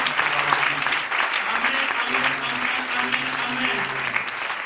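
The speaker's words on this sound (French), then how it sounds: "Acclamons très fort Pasteur Lama." Church congregation applauding and cheering loudly for a pastor at a French-language worship service, a dense steady wash of clapping with crowd voices sustained throughout.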